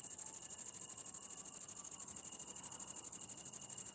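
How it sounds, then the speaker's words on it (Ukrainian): Crickets chirp in a fast, continuous high-pitched trill, steady and even, with nothing else around it on a quiet night. "Цвіркуни."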